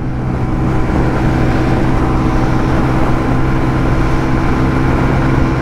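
A Shineray Worker 125 motorcycle is ridden at a steady pace, its small single engine droning continuously under loud, constant wind rush.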